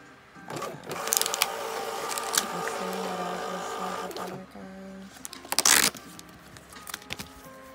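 A label printer runs while printing order labels at a small packing station, making close mechanical whirring in a few bursts separated by short pauses, with faint background noise.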